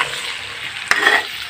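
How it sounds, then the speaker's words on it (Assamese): Pork sizzles in hot oil in a pan for an Assamese-style pork fry, a steady close crackle with a brief sharp clatter of stirring near the end, and no voices. "অলপ সময় এনেকৈ ফ্ৰাই কৰি থাকিব"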